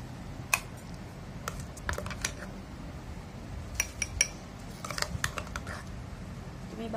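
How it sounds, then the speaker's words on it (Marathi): Ground raw mango chutney scraped from a grinder jar into a bowl, close scattered clinks and scrapes of a spoon against metal and dishware, irregular and fairly quiet. "मी हिला बाउलमध्ये काढून घेते"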